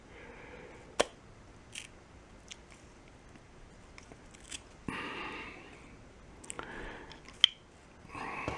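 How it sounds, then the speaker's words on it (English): An old plastic fitting on an air compressor is cut off with a hand cutting tool, giving a few sharp snips and crunching cuts at irregular intervals against a quiet background, with no talking. "the first thing we got to do is cut this old fitting off"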